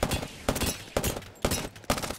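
Prowler SMG fired from the hip in a video game, five quick loud bursts at a steady, even pace, each a dense rattle of rapid shots with brief gaps between.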